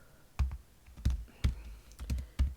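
A computer keyboard clacks with five or six separate, fairly loud keystrokes at uneven intervals while a formula is entered in Excel, close up with no voices.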